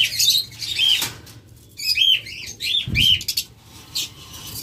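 Split blue lovebirds give sharp repeated chirps in quick bursts, and a loud flurry of wing flaps and a thump break in near the middle of the clip, close by in a cage.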